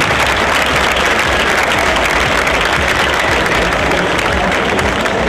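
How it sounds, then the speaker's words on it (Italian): Loud, sustained applause from an audience at an award ceremony honoring twenty years of loyalty, dense clapping filling the whole stretch without pause. "Ancora più forte questi applausi, 20 anni di impegno."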